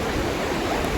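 Fast-flowing water rushes through a side channel of the Upper Kern River, a dense, steady roar heard close and alone.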